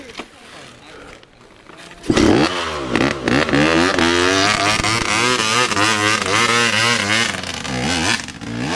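A motorcycle on a slippery road revs hard after a quiet start, its engine note rising and falling in repeated loud surges, with a voice talking over it.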